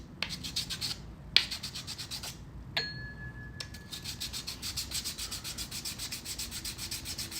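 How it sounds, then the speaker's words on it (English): Wet sanding by hand on a surface in a studio build, a steady rhythmic rubbing scrape repeating in quick strokes, close and fairly quiet, with a couple of sharp knocks partway through. "Wet sanding speeds it up quite a bit, but it's just a little bit messier."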